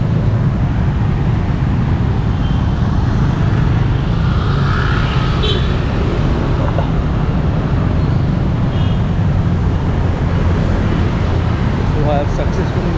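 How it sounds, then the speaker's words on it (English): Dense, noisy car traffic on a busy Surabaya street during the morning rush, a continuous loud roar of engines and tyres with no breaks, heard close from the roadside. "it's full of noisy cars"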